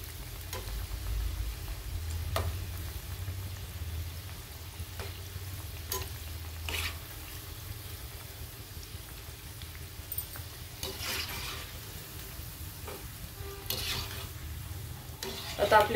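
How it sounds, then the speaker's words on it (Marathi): Moong dal fritters (bhaje) deep-frying in hot oil on full flame, a soft, continuous sizzle with occasional light clinks and stirring sounds, fairly quiet throughout. "तसं फुल गॅसवर तळायचे."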